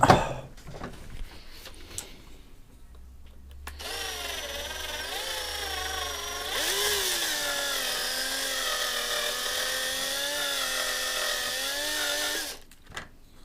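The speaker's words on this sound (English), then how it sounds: "Now get the bigger drill bit." A power drill whines steadily for about nine seconds, its pitch wavering as it bites into the mudflaps of a Matchbox toy cattle truck, after some quiet handling noises.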